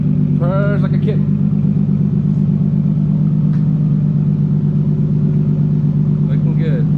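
A Nissan 350Z idling through a Tomei Expreme titanium cat-back exhaust, a steady low rumbling drone close by and loud, with a voice speaking briefly near the start and end.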